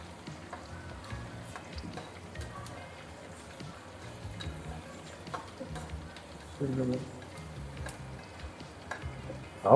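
Curry leaves fry in oil with ginger for a raw-mango pulihora tempering, a quiet steady sizzle and crackle with occasional ticks, heard under a person talking.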